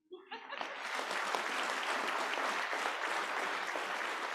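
Audience applause at a Boise Rotary Century Scholars scholarship ceremony, swelling quickly from a few claps into sustained, dense clapping that holds steady for several seconds, with faint laughter mixed in.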